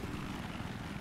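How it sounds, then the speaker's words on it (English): Helicopter engine in the video game Battlefield 3, a continuous low whirring rotor drone that stays loud and steady throughout a brief moment, with no talk. "I'm still harassing the helicopter."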